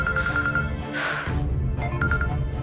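A phone rings in short repeated electronic trills, with a brief burst of noise partway through.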